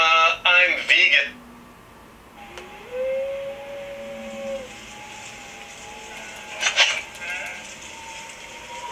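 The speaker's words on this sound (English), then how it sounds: "Or a deer? A goat." A goat being walked outdoors bleats in two short, wavering bursts, at the start and again near the end, set against a steady background tone and muffled talking.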